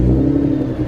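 A Nissan GT-R engine rumbles and revs steadily up close at a cars and coffee meet, a continuous low growl with no voices.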